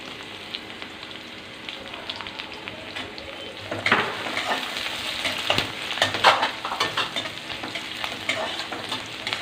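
Two whole dry red chillies and asafoetida sizzling in hot oil, a soft crackle that suddenly grows louder and busier with popping spatters partway through, close by and with no speech.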